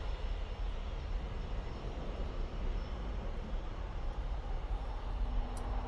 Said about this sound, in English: There's another BizJet coming over.